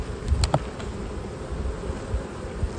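Italian honeybees hum around an open hive in an apiary, a low, soft, continuous buzz close by, with a few small knocks and handling sounds near the start.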